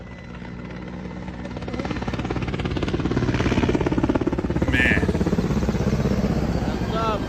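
Loud, close Mi-8 helicopter rotor thumping steadily, building slightly in intensity, with the heavy chopping drone of the military helicopter filling the scene.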